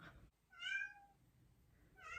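A pet cat meows clearly nearby in a quiet room, one drawn-out call followed by the start of a second.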